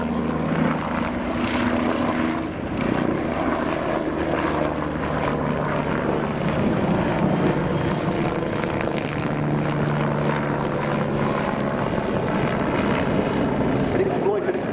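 A Bo 105 helicopter with a hingeless rigid rotor flies an aerobatic display at the RAF Cosford airshow, its rotor and engine roar loud and continuous beneath a commentator's voice over the public address.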